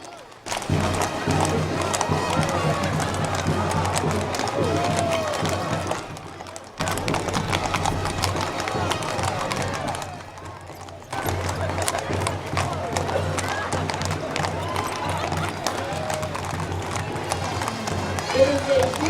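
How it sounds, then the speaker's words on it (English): Charro riders from the Charros Mexico group lead their horses along the Luther Burbank Rose Parade route in Sonoma County, 2018. Hooves clip-clop steadily through crowd noise, with a couple of short breaks in the sound. "Beautiful horses."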